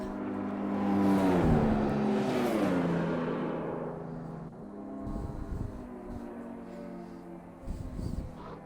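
Racing car engines in the video game F1 2021, glitching, whine and rise in pitch, then fade into a duller hum with occasional bursts of turbo-like rushing, during a race at Bahrain.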